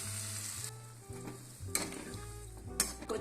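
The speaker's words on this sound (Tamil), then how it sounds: "ஒரு 1/2 டம்ளர் தண்ணி ஊற்றிக்கணும்." Water poured into a pan of sizzling green chilli tomato chutney while it is stirred, giving a hissing sputter with scraping and clinks of a spoon against the pan, plus a couple of sharp bursts.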